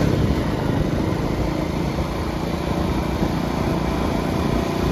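Faulty motorbike engine with no pickup during the Haridwar kanwar yatra traffic jam, running steadily at one constant speed with a dense, unbroken drone that stays loud and close throughout, with no voices.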